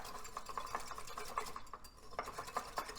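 Brown sugar sauce mixture whisked in a bowl for gluten-free chicken lo mein, a steady rhythmic tapping and scraping of the whisk against the bowl, close up and continuous, with no talking.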